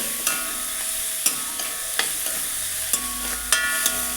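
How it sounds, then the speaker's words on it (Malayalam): Clams frying in oil in a pan: a steady close sizzle with sharp intermittent clicks and scrapes as they are stirred, no voices. "ഇനി കുറച്ച് നേരം എണ്ണയിൽ കിടന്ന് അങ്ങോട്ട് റെഡി ആവട്ടെ"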